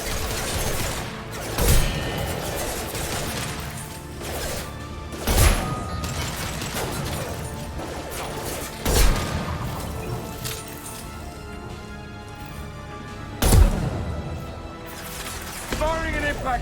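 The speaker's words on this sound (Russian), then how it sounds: "Firing an impact shot." Impact shot gunfire in the Mass Effect 2 video game: four sharp, loud blasts spaced several seconds apart over a busy bed of game ambience and music, with someone talking in between.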